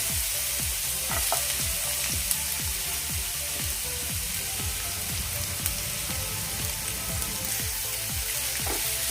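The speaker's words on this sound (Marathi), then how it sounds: "कांदा ही ट्रान्सपरंट होईपर्यंत आपण परतून घेणार आहोत" Onion frying in oil with green chili paste and garlic gives a constant, bright sizzle up close, layered with rapid rhythmic spatula scrapes against the pan, alone without speech.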